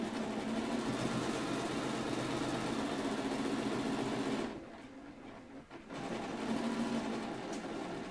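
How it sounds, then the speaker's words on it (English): A sewing machine runs in a steady, close whir of stitching, briefly slowing and pausing midway before resuming at an even pace. "and now I'm ready to sew."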